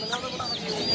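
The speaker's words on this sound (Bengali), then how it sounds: "সব মোরগ ভাই? মুরগিও আছে।" Chickens and roosters cluck at a crowded poultry market in Mirpur, Dhaka, a brief burst of overlapping calls close by under a busy murmur of voices.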